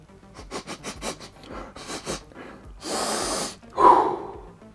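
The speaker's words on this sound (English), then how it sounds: "let's come in for the all-important sniff." Close sniffing of a freshly unboxed Darktide: The Miniatures Game box, a series of quick nasal inhales followed by a longer breathy rush and a loud exhale, with no talk.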